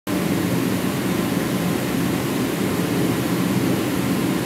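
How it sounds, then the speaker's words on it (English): Space heaters run loudly in a cold garage, giving a steady, dense roar of fan and air noise that stays constant throughout. "Sorry for all the noise. I got the heaters going."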